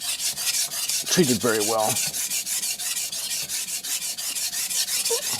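A German steel cook's knife is worked on a Shapton Kuromaku 320 whetstone for edge bevel repair, making steady, rhythmic gritty strokes, close and fairly quiet, with a brief spoken phrase partway through.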